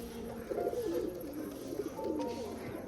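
Pigeons coo in a loft where pairs have laid eggs again, with soft repeated rolling calls at moderate distance over a constant background hum.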